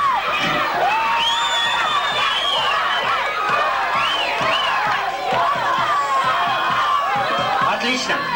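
A crowd at a 1999 disco on the town square in Karakol shouts and cheers, with high children's voices whooping and calling over dense chatter, loud, continuous and close throughout.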